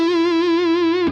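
Electric guitar note bent from the flat third up toward the root, a single sustained, effected tone with slight wavering vibrato, played alone and ending abruptly after about a second.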